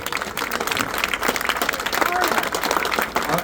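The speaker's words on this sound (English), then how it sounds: "Give Arnold a round of applause." Clapping and cheering fill a campaign office opening in Camrose for a Canadian political event. The crowd's applause is loud and continuous, with voices mixed into it throughout.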